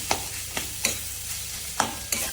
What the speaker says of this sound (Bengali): একটু নাড়িয়ে নেবো, মিশিয়ে নিয়ে ভালো করে।